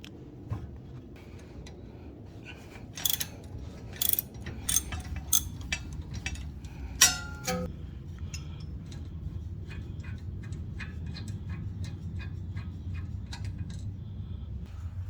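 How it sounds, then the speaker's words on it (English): A spanner works a rear brake caliper guide pin bolt on a 2005 BMW 320i E90, giving a burst of sharp metallic clicks and clinks close by, then quieter scattered taps over a low background hum. "Remove the brake caliper lower guide pin bolt while counter-holding the sleeve nut using a spanner."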